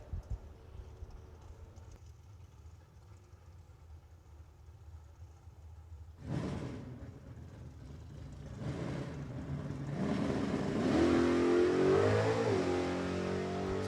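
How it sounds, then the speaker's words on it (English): A drag racing car launches down the track, faint and distant at first, then swelling into a loud, rising engine roar that climbs in pitch as it accelerates away. "As our final car gets ready to make his way down the Pennzoil side of the racetrack."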